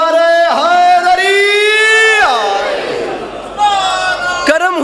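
A majlis congregation in Gujrat shouting the Nara-e-Haidari slogan together, loud and close, with long sustained voiced calls rising and falling across the crowd over about five seconds.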